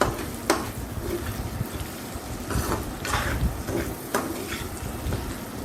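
Spiny gourd pieces fry slowly in a pan over medium heat, giving a continuous soft sizzle broken by intermittent scraping stirs.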